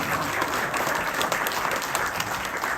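An audience at a political talk about fandom politics claps, a steady wash of many hands slightly distant in a large hall with a constant hiss behind it.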